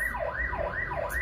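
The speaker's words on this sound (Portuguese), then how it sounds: "E agora é a senhora ambulância que está passando para o área das graças." An ambulance siren wails in a steady up-and-down sweep, loud and close, with road noise beneath and no talking.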